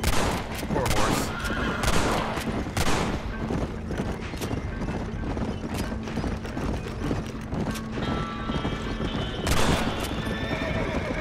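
In the video game Red Dead Redemption, a horse neighs loudly and repeatedly over galloping hoof clip-clops and bursts of gunfire in a chaotic scene.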